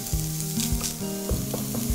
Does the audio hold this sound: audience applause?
no